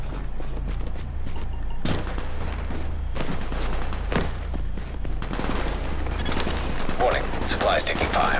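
Gunfire in Tom Clancy's The Division, bursts of automatic fire and single shots cracking over a steady low rumble, with sharp peaks recurring across the scene and game voices in the background.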